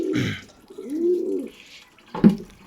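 A domestic pigeon cooing close by, one clear rolling coo in the middle set between short bursts of noise.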